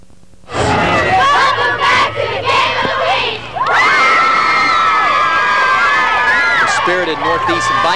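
At a 2002 Seminole vs Northeast high school football district championship, a crowd and cheerleaders erupt into loud, sustained shouting and cheering with high-pitched screams, building after a short burst and staying close and dense throughout.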